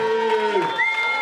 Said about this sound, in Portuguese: Família, salva de palmas.